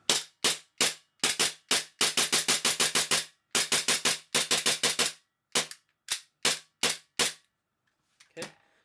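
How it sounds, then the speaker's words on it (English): A Tokyo Marui Glock 18C airsoft pistol fitted with a Nebula Zev Tech slide gives a long series of sharp, crisp clacks, first in spaced pairs and then in fast runs, loud and close, with the clicks thinning out toward the end and no talk. "my slide is actually moving very sluggishly, is because as I cock it"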